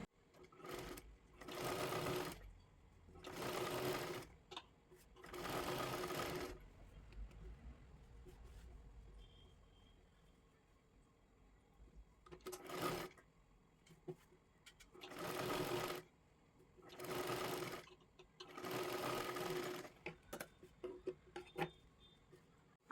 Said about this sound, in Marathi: इथे बरोबर व्यवस्थित आपल्याला कडेकडेला एक शिलाई मारून घ्यायची आहे दोन्हीसुद्धा बाजूंना त्याच पद्धतीने आपल्याला शिलाई मारायची आहे